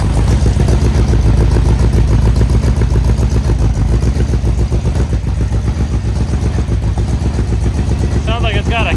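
A car engine with a misfire and a sticky throttle linkage runs steadily up close, its lumpy, uneven low rumble continuing throughout, with a brief higher-pitched sound near the end.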